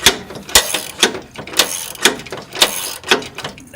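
A hand wrench ratchets a bolt tight on the rear bumper of a Jeep TJ, clicking in about eight evenly spaced bursts, close and loud with no talk.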